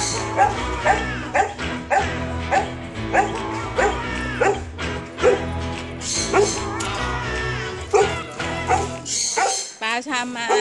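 A dog barks and yips repeatedly up close, with short whimpering bursts in an uneven rhythm, and a person speaks over the barking.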